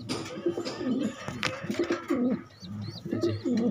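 Pigeons kept as farm birds alongside ducks and chickens coo in repeated low throaty phrases, close and clear, with some faint chirps and rustling around them.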